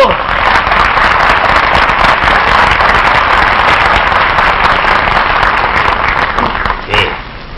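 A television studio audience breaks into loud, sustained applause, thick and continuous clapping that holds steady for several seconds before a brief shout near the end.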